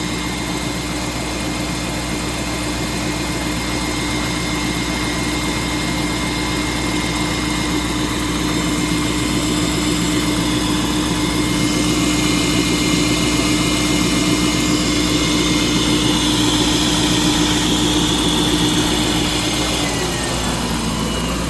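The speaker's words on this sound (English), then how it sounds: "We'll let it go until the SAI pump turns off, and of course the engine will slow down a little bit when that happens." A 2004 Land Rover Discovery 2 idles steadily after a cold start, its secondary air injection pump whining along with a low engine drone; near the end the pump shuts off and the idle settles lower and quieter.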